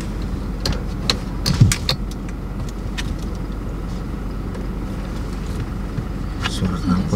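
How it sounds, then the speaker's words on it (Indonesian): Diesel Toyota Innova idling with a loud exhaust, a steady low rumble throughout, close by, with people talking over it. "Suara knalpotnya kenceng ya."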